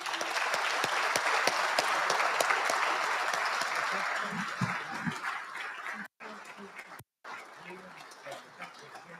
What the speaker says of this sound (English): Please join me in a round of applause for all of our awardees.